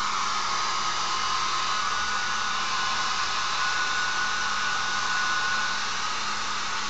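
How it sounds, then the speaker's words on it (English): A hair dryer running steadily on high, a constant loud airy whoosh with a faint whine, continuous throughout with no voices. "I'm going to use my blow dryer. No special blow dryer."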